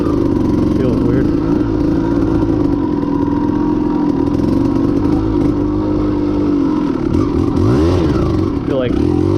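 A 1992 Kawasaki KDX200 dirt bike engine drones loud and close throughout the ride, its revs rising and falling with rattling clatter, and a voice comes through underneath.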